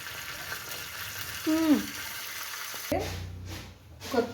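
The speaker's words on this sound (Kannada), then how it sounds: "ಜೀರಿಗೆ ಹಾಕ್ಕೊಂಡು ಹುರ್ಕೊಂಡು ಜೀರಿಗೆ ಚಟಪಟ ಅನ್ಬೇಕು" Cumin seeds splutter in hot oil in a pan while a spicy pongal is cooked, a faint crackle and sizzle with a few sharper pops, and a voice briefly speaks over it.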